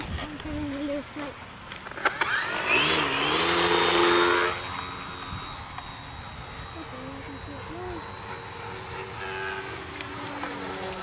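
An RC Cub model airplane flown at night: its electric motor spins up in a bright, high whining burst lasting a couple of seconds, then fades into the background while people talk nearby.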